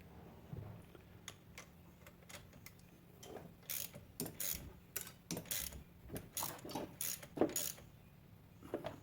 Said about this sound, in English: in order to get the rockers loosened and removed eventually, you need a 5/8 inch wrench